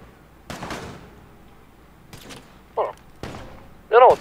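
A few sharp gunshots ring out in a GTA RP game, spaced apart by a second or more, with quieter game noise and brief voice sounds between them.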